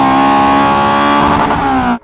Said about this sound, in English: So this spoon exhaust, it does sound incredible at full acceleration.